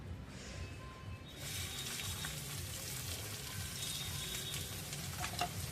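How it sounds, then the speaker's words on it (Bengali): Chopped onion and green chili frying in mustard oil in a home kitchen pan, a steady broadband sizzle that starts up loud after a quiet first second and continues evenly, with faint stirring scrapes and no voices. "প্রথমে পেঁয়াজ আর কাঁচা লঙ্কাটাকে এক মিনিটের মতো ভাজবো"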